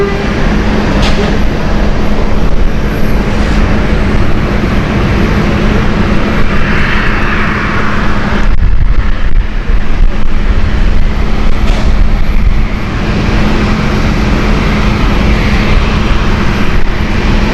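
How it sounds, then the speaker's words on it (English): A KLM airliner comes in to land at Amsterdam Schiphol Airport, its steady broadband jet roar filling the whole stretch, loud and continuous with a constant low hum beneath. "And KLM just coming in right now."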